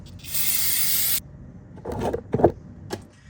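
A sustained spray of aerosol brake cleaner hisses steadily for about a second, followed by a few short clinks and rattles from nearby tools, during a classic GM rear drum brake job.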